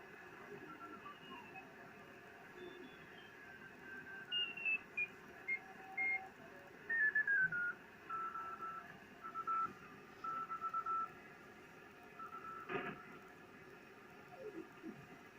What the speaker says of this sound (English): going down into the Morse code